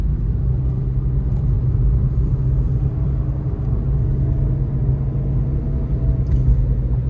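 Heavy, continuous low rumble of a truck speeding along a Thai road near a large overpass construction site, loud and steady throughout with no distinct voices.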